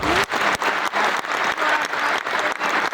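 Applause at a memorial concert: a crowd claps steadily and fairly loudly, a dense continuous patter with slight rhythmic swells.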